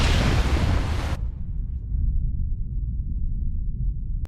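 A loud movie explosion from Snowpiercer (2013) roars with a broad blast that cuts off abruptly, leaving a deep rumble that lingers afterward.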